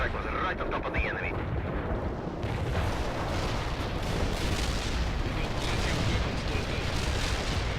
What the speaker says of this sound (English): the precision strike was right on top of the enemy